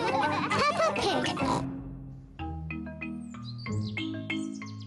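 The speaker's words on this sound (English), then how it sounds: "What noisy little piggies." Cartoon pig oinks and snorts, several short grunting calls in a row, close and fairly loud, with a brief bubbly stretch of drinking orange juice before them.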